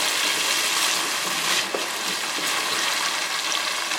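Masala for daal makhni sizzling steadily in a pan, a continuous loud hiss and crackle with no pauses and no talking.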